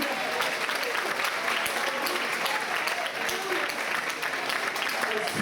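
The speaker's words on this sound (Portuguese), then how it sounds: "Aplauda Ele" A church congregation at an Assembly of God service applauds in worship, a continuous, dense roll of clapping from many people filling the room, with voices mixed in underneath.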